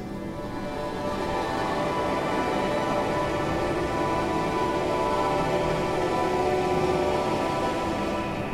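Steady, dynamically flat chill-out music plays throughout, a dense continuous wash of sustained tones at an even level with no clear peaks or pauses, and no talking over it.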